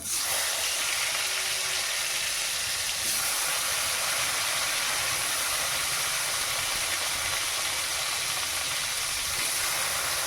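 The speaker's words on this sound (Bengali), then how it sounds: "আলুগুলো ভেজে নিই" Potatoes frying in hot oil give a steady, loud, broadband hiss and sizzle that holds evenly throughout without letup.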